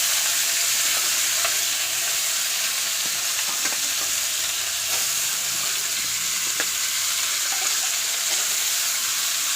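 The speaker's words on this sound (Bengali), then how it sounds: "আর এবার হচ্ছে আমি এইভাবে একে একে সমস্ত সবজিগুলো দিয়ে দিব।" Mixed vegetables frying in hot oil in a kadai and being stirred, a steady close sizzle with occasional scraping clinks of the spoon, no talking.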